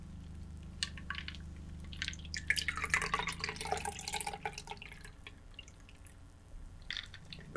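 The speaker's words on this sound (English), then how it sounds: "And we can pour into our glass." A Scotch cocktail poured from a shaker into a small cocktail glass makes a soft, quiet trickle with scattered drips and splashes, close and gentle, with no voices.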